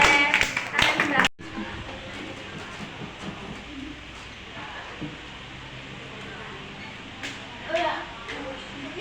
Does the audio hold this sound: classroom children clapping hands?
yes